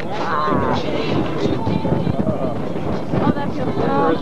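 Outdoor breeze gusts at a furry convention's fursuit parade, a steady broadband rush of wind buffeting the microphone throughout, with people talking and greeting each other close by over it.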